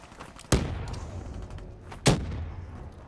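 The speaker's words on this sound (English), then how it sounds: "I'm gonna lob some grenades." Two video game grenade explosions about a second and a half apart, each a sharp loud blast followed by a rumbling decay, with no talking.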